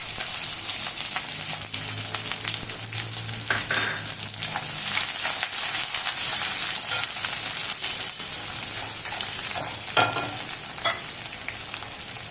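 Onions hit hot oil already holding cloves and cumin in a pan for Bengali eggplant kalia, a steady close sizzle and crackle with occasional stirring scrapes and no talking.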